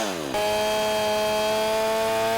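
A chainsaw freehand milling a log revs sharply up to full speed, then holds a loud, steady, high-pitched engine whine while cutting, close by and with no talking.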